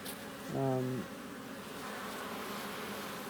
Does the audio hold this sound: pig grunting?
no